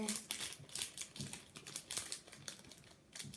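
A Minecraft ice cream wrapper is torn open nearby, with several short, crackly plastic crinkles coming in quick uneven bursts, fairly faint, alongside a voice.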